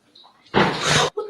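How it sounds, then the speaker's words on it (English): A door right behind a person bangs once, a loud, sharp close thud standing alone between brief faint voices. "That bang that you heard was the door that was right behind my head."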